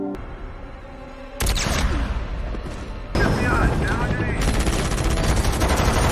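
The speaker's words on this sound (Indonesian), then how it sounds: "Kelly menyuruh Chris berjalan ke tengah parkiran untuk memancing sniper musuh menembaknya" Gunfire from an enemy sniper during a film scene set in a parking lot, loud dense bursts of shots and booms that swell and continue throughout, with no clear pauses.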